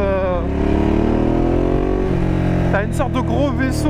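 A loud Ducati Diavel motorcycle engine idling and revving up, its pitch climbing and falling in a couple of sharp bursts close by.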